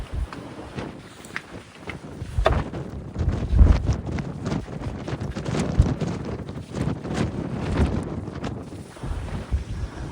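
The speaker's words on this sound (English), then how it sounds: "It's gonna be really windy up here." Strong wind blows across the open front deck of the cruise ship Disney Treasure at sea, a loud, gusty rumble buffeting the microphone and rising and falling throughout.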